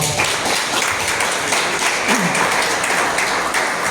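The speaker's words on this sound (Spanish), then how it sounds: "Dale un aplauso al Señor." A church congregation applauds, a loud, continuous wash of clapping that stays even throughout, with a faint voice underneath.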